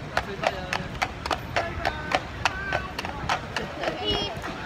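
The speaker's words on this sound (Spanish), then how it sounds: "Estamos yendo en un ride en caballo. Ahí va el caballo." Horse hooves clip-clopping during a horse ride in Boston, a steady rhythmic series of sharp close hoof strikes on pavement, with people talking over it.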